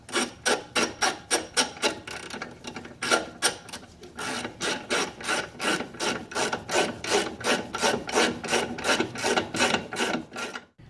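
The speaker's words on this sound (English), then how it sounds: "get a wrench in the back right here, and then just tighten this down so it won't spin freely" A ratcheting wrench tightens a nut on a new KYB shock with Tein S Tech lowering springs on an Infiniti G20, clicking in quick regular bursts of strokes, close and loud, with a short pause partway.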